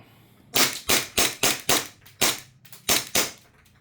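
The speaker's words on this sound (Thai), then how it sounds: "ผมก็จะยิงเทสให้ดูนะครับ" A WE SIG P320 gas airsoft pistol, freshly filled with gas and BBs, fires about nine sharp, loud cracks in quick, slightly uneven succession, each with a brief tail.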